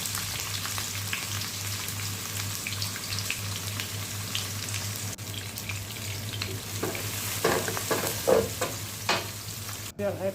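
Onions for chicken biryani sizzle steadily in hot oil in a pan, a continuous fry broken near the end by a few scraping strokes of a spoon and a sharp knock.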